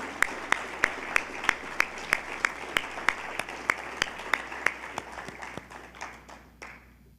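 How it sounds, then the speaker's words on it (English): Audience at a ceremony applauding, a run of evenly spaced claps over a broad clapping wash that gradually thins and fades over about seven seconds in a hall. "I would ask if we can please give Mrs. Ruiz a round of applause"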